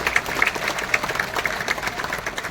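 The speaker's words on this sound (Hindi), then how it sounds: "इस ताली और भी सारे लोग बजा सकते हैं" An audience at a speech event claps together, giving a dense, steady wash of applause with small irregular peaks throughout and no pauses.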